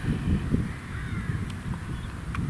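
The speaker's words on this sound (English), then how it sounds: "That looks like a jackdaw as well." Jackdaw calling in open countryside, faint distant caws under steady wind and low rumble, a couple of brief calls standing out near the end.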